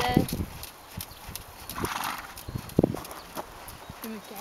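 A horse named Arabella in a stable, giving scattered hoof clops and a short whinny, fairly close, with people chatting in Swedish nearby.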